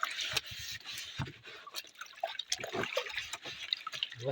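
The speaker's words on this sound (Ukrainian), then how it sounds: "Зробимо тобі ванночку, Гердуський" Water running into a small bath tub for a dog, with splashing, drips and trickling sounds close by and scattered handling noises.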